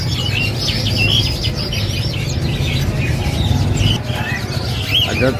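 Caged songbirds, including cucak and other species, chirp and whistle at a busy Indonesian bird market at Pramuka. Many overlapping tweets and calls sound nearby above a constant low rumble of background hum.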